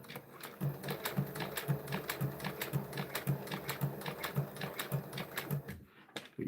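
A sewing machine quilts a vehicle seat with half-inch and quarter-inch foam between the layers, a steady run of evenly spaced, close thumping stitches for several seconds before stopping.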